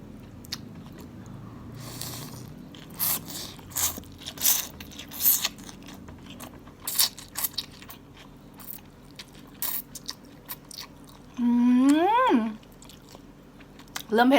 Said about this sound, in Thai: ASMR ก๋วยเตี๋ยวติ้งไก่